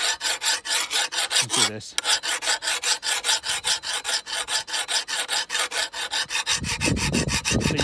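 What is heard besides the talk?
file sharpening a garden hoe blade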